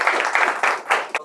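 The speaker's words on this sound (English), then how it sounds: "Can I have a round of applause for him today?" Audience at an event clapping for a speaker, a short burst of dense applause, fairly close and fading out abruptly.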